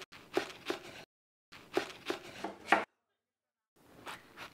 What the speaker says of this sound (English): We're going to start by cutting the cabbage into big bolts